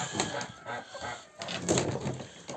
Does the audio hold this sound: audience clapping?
no